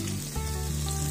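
Chana dal and green chillies sautéing in oil in a pan for South Indian lemon rice, a steady close sizzle with a brief stir-like shift.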